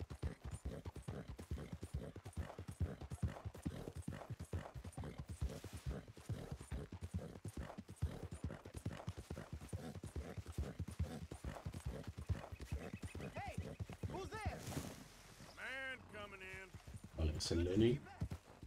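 Steady clip-clopping horse hooves trot in a quick, even rhythm with voices talking over them, and a horse whinnies loudly near the end, in the video game Red Dead Redemption 2.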